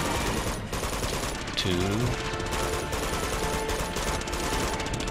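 Rapid automatic gunfire in the video game Uncharted 2 Among Thieves, dense continuous bursts of shots filling the scene, while a player talks briefly over it.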